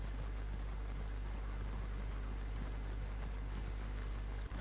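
Steady clip-clop of horse hooves in Red Dead Redemption 2 runs throughout over a dense, constant background rumble.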